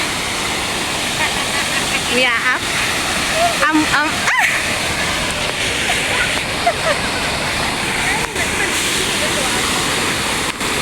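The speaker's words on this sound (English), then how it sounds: "And this is the waterfall," A small waterfall roars as a steady, loud, broadband rush of falling water that fills the whole scene, while a person talks loudly over it now and then.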